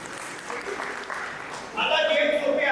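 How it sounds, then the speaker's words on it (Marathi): Applause at a 50th birthday party swells suddenly into dense, loud clapping from a crowd in the last second, following a stretch of talk and room noise. "हे जोरदार टाळ्या झाल्या पाहिजे."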